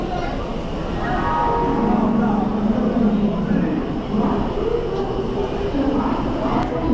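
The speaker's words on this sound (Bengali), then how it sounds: "বন্দে ভারত আসছে।" A Vande Bharat Express pulling into Howrah station, a steady loud rumble of rolling wagons filling the platform while people talk nearby.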